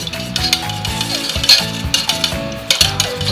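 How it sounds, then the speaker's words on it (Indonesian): A spoon stirs an agar-agar mixture with coconut milk in a pot, giving steady scraping and swishing strokes with light clinks against the metal, close and continuous with no talking. "Dan ini kita aduk-aduk sampai benar-benar tercampur"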